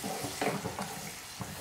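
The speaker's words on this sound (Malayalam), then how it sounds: "ഞാനിതിലേക്ക് തൈരാണ് ചേർത്ത് കൊടുക്കുന്നത്" Curd being stirred into a simmering potato and cauliflower curry in a pan, soft close sizzling with a few scraping stir strokes.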